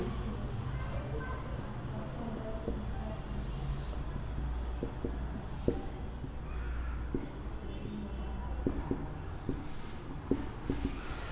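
Pen writing on paper during a coordinate geometry maths lesson, steady scratchy strokes with a few sharp taps, running throughout over a constant low background hum.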